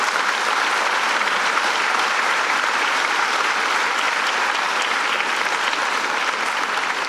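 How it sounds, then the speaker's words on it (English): Steady, dense applause from the audience at an Association for a Better New York breakfast, constant and fairly loud throughout with no pause or speech over it. "Let's give him another round of applause."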